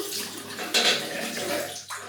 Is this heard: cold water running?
yes